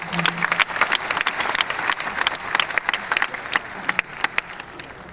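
Dense, sustained audience applause fills a poetry recital by Anjum Rahbar at the Antaragni 2013 festival at IIT Kanpur, many hands clapping steadily at close range with no talk.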